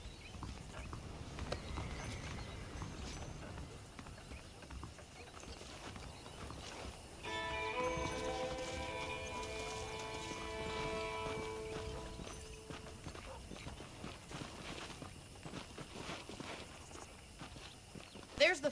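Horse hooves clip-clop at a steady walking pace in Red Dead Redemption, close and continuous, with someone talking over them and a snippet of music midway.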